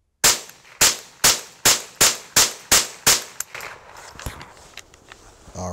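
A Marlin 795 rifle fires Winchester bulk copper-plated hollow point rounds in nine sharp, evenly spaced shots over about three seconds, each one loud with a quick ringing decay, followed by quieter handling clatter and clicks.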